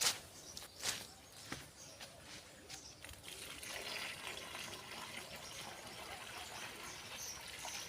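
Water poured onto a newly planted guava sapling in village farm soil: a faint, steady splashing stream that starts after a few soft knocks and continues evenly to the end.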